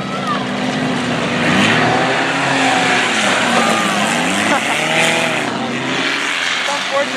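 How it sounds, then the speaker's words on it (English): Race cars towing trailers pile into and drive over each other at a demolition-style trailer race, with a dense, continuous roar of engines and churning motors that never lets up. "Look at these guys driving over each other on the back straightaway."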